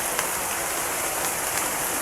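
Steady, dense rain pours down, a continuous broadband hiss with occasional sharper drop hits, heavy and close.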